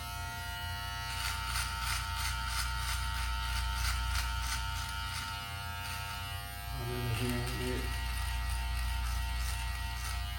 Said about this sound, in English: I really love this type of trimmer right here because it kind of gives a little hairs.